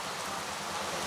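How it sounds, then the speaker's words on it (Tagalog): Heavy rain pours down in a steady, dense hiss with no pauses and no voices. "talagang malakas ang ulan"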